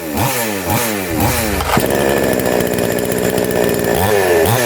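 Chainsaw engine, just after a carburetor cleaning, revs loudly in repeated rising blips, then holds a steady high-rpm roar before dropping back, close and alone without speech.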